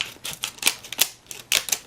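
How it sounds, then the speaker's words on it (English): Tim Holtz scissors snip off paper edges in a quick run of sharp, crisp clicks and cuts, about half a dozen in under two seconds, close and clear with no talking. "And so I always cut the edges off"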